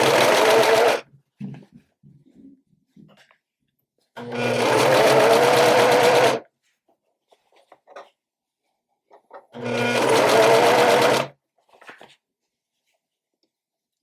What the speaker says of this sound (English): my sewing machine is set with a straight stitch